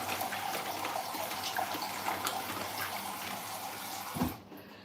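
Tap water runs steadily into a sink while nuts are washed, a continuous close gush that stops abruptly near the end.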